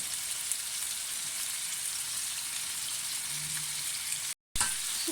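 Chicken drumsticks frying on high heat in a pan, a steady close sizzle throughout with a brief gap as the pieces are flipped.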